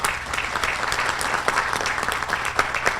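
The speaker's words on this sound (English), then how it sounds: "Please give them a round of applause." A luncheon audience gives a round of applause for a news media crew, steady moderate clapping from a roomful of people with crisp individual claps standing out.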